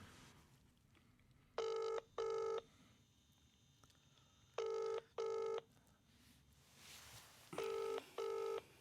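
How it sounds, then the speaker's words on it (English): Three pairs of bursts of touch-tone dialing beeps, each burst a quick run of tones, separated by short pauses over a quiet background hum. "We'll just give Joe a buzz right now. And we'll get Joe on the phone."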